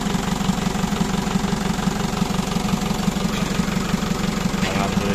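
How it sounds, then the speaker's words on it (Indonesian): An Isuzu Panther diesel engine idles steadily after repair, a low, even rumble with a rapid knocking pulse that stays constant and close for several seconds. "Alhamdulillah untuk mesin sudah hidup,"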